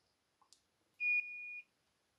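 A multimeter set to continuity gives one clear, steady electronic beep lasting about half a second while a fuse is tested, preceded by a couple of faint probe clicks in an otherwise quiet room.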